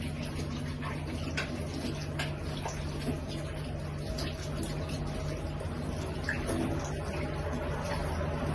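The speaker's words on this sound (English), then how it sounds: "I'll wash my hands first" Tap water running while hands are washed in a kitchen before cooking baked potatoes with fish, a continuous low splashing wash set against a steady background hum.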